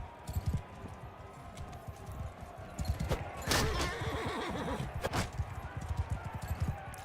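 Horse in the Bannerlord video game whinnying loudly amid clopping hooves and battle noise, with a sharp neigh in the middle and talk over parts of it.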